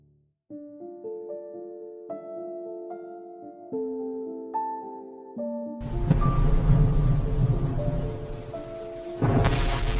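Soft melodic tones ring out, then a steady hiss of the first monsoon rain falling on dry soil abruptly starts and continues beneath the music, growing louder toward the end.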